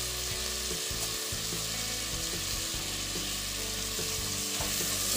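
Steady, close sizzling of spinach and chopped tomato with salt frying in a pan for palak sambar, broken by repeated scraping stir strokes; continuous and fairly loud, with no voices.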